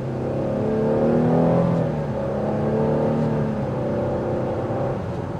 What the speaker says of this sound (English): It's a V6, so you're going to have more of an athletic exhaust note that filters in.